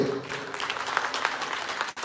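Audience applause at a sports felicitation ceremony in Joynagar, a steady wash of clapping from many hands for about two seconds, with a brief dip near the end.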